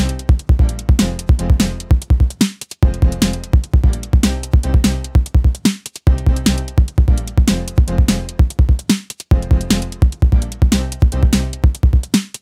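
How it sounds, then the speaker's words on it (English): Breakbeat hardcore style piano chords played on a Nord Drum 3P hit in short, punchy stabs that repeat in a syncopated pattern, loud and alone with brief gaps between phrases. "what I often heard are those kind of piano chords that could sound like this."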